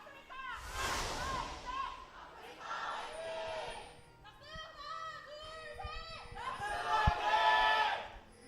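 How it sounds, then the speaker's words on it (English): A large esports arena crowd at an LCK League of Legends match between Afreeca Freecs and ROX Tigers swells in waves of cheering and shouting, loud and sustained, mixed with a caster's voice talking over it. "And like nice little end cheer that we had going on."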